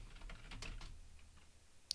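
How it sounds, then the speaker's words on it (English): A password is being typed on a computer keyboard: faint, quick key clicks in a light, uneven patter, very quiet and heard alone. "go ahead and type that in"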